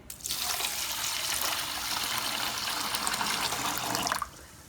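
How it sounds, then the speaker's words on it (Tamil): Water pours in a steady rushing stream for about four seconds into a pot of rice and lentils, close by, then stops abruptly. "தண்ணி இப்போ நான் இதோடு சேர்த்துக்கிறேன்"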